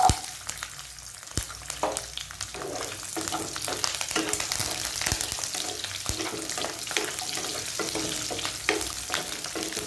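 Peeled garlic cloves and small shallot-type onions fry in hot oil for a Tamil fenugreek curry, giving a steady close crackling sizzle with occasional sharp clicks of stirring throughout.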